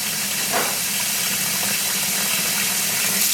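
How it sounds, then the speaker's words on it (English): Tap water runs steadily into a basin for rinsing dyed superwash alpaca and merino yarn, a constant close hissing rush with no break. "fill the basin back up with water and add a splash of vinegar to it"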